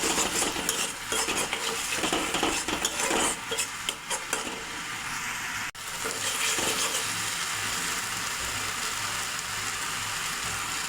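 A spice paste of ground coriander, Kashmiri chili powder and a little water fries in a pan, a steady loud sizzle broken by frequent scraping stirs of a utensil, with a brief dip midway.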